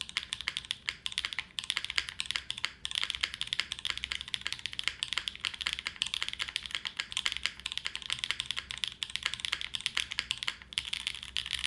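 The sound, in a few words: typing on a glass mechanical keyboard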